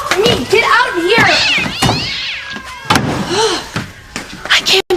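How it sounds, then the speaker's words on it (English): Several cats meowing and caterwauling close by in rising, wavering cries, mixed with bumps and voices talking over them. "I can't believe how many cats followed us home."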